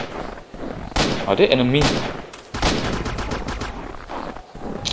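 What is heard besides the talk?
gunfire in the video game Z.O.N.A Shadow of Limansk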